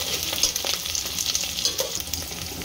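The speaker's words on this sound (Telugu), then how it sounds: "ఇప్పుడు ఉల్లిగడ్డలు వేసుకుంది. ఇప్పుడు కలమాకు కలుపుకుంది." Chopped onions sizzling in hot oil in a pan for a yellow round cucumber curry, a bright crackling fry broken by scraping stirs of a spoon, close and steady with no talking.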